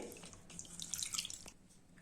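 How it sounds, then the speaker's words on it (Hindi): Pieces of rohu fish rinsed by hand in water for a curry, a close, gentle sloshing with splashes and drips that swell briefly in the middle before settling. "इसको हम अच्छे से धो लेंगे। धोना बहुत जरूरी है, अच्छे से धो ले।"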